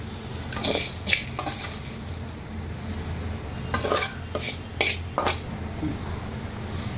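Metal utensils clatter and scrape against a pot in several bursts as vermicelli is stirred into boiling milk for payasam, over a low background hum.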